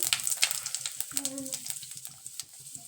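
Cumin and mustard seeds crackle in hot oil, with quiet bursts of sizzling and small pops scattered through a steady, low fry.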